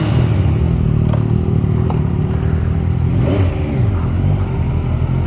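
Several Yamaha MT-09 motorcycles with Akrapovic titanium exhausts and no silencer idle and rev together, producing a loud, continuous engine rumble that dominates throughout, with a few sharper blips standing out.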